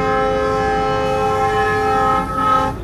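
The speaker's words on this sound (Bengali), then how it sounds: "এই পুরো এত বড় একটা ট্রেনটাকে জাস্ট একটা ইঞ্জিন বাই টেনে নিয়ে যাচ্ছে" A long train in a train simulator game pulls out of Joydebpur Junction, its loud sustained horn blowing steadily for nearly three seconds over a low rumbling engine before the horn cuts off, with no voices.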